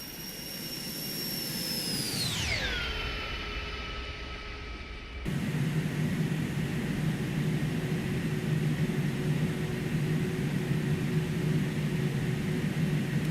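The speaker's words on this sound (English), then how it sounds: "Flyby sounds a bit too electric." In a flight simulator an Airbus A300 sweeps past, its jet whine dropping sharply in pitch with a Doppler slide, then the view cuts to a steady, loud, broadband engine roar that holds to the end.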